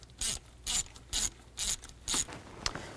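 Five evenly spaced bursts of ratchet clicking from a wrench loosening the intake bolts on a 2000-2006 Chevy Tahoe engine, close and crisp with short pauses between strokes and a faint tap at the end.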